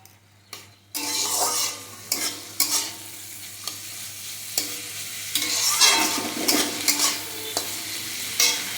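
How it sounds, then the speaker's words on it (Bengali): Close-up sizzling of onion, ginger and garlic frying in a pan, punctuated by repeated sharp scrapes and taps of a spatula stirring, with no talking. "পেঁয়াজ, আদা, রসুনটাকে লাল লাল হতে ভালো করে ভেজে নেব।"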